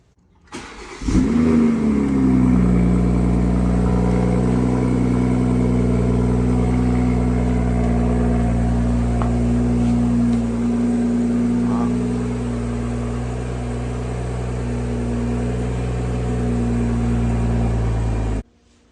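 A 2021 Toyota Supra engine with a catless turbo downpipe exhaust: it fires up sharply, then holds a loud, deep, droning idle with a slight dip in level midway, close to the car.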